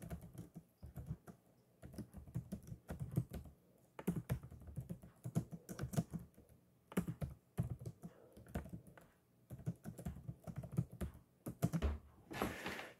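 A teacher types on a computer keyboard, giving a steady run of close, crisp key clicks with short pauses between bursts, with no talking over it.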